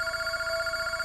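A telephone ringing in a steady, rapid warbling pattern, continuous and fairly clear through the whole short stretch with no voices.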